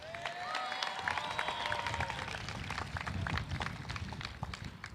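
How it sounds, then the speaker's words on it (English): Crowd applause at a high school class of 2017 graduation ceremony, a broad wash of clapping with some cheering that carries on for several seconds, moderately distant, with a voice briefly rising above it early on. "yeah, it's worth applause."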